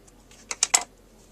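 Scissors snipping paper while finishing a handmade Mother's Day card, three quick faint close cuts in a quiet room.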